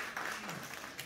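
Soft applause from the audience at a poetry gathering in Farrukhabad honouring a poet, light and fairly even, heard at a low level with a faint voice-like tone passing briefly through it.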